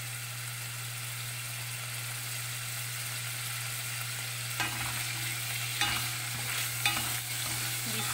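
Meat sautéing in hot cooking oil, a steady close frying hiss over a low constant hum, with a few scraping stir sounds near the end, no speech.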